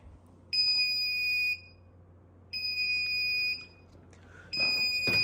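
A self-diagnostic emergency light's trouble buzzer, triggered by a disconnected battery, pulses a shrill electronic tone on and off three times, each about a second long with equal gaps between them.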